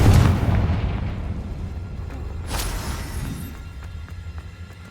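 Confringo fire spell blasts in Hogwarts Legacy, a heavy booming explosion at the start followed by a second burst a few seconds later, both loud and rumbling before decaying.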